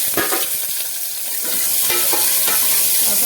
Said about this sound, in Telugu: ఫ్రై చేసుకోవాలి కొంచెం కరివేపాకు ఇవి వేగేటప్పుడే భలే స్మెల్ వస్తుందండి